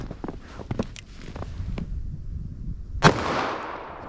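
.44 Magnum revolver firing a single loud, close shot of hard cast solid ammunition, with a long, decaying outdoor echo, after a few scattered clicks and handling noises.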